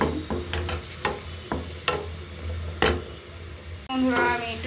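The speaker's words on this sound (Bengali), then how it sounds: "আমি একটু ভেজে নিচ্ছি পেঁয়াজটাকে" Chopped onion and garlic frying in oil in a pan, with a steady sizzle broken by sharp clacks of a spatula stirring, then a brief voice at the end.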